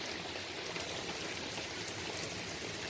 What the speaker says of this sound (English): the rain here, oh, it's actually starting to hit me now.